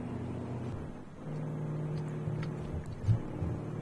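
A Mack RD truck hauling a Cat roller and dozer at 50,000 pounds in American Truck Simulator, its engine holding a steady low drone at cruising speed with faint road whir and a brief swell near the end.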